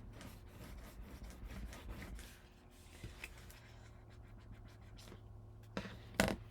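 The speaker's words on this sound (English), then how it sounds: "And then I'll burnish that." Paper burnished flat after gluing in a handmade mini album, a soft, close scratchy rubbing that repeats steadily under quiet room noise, ending with a few sharper scrapes.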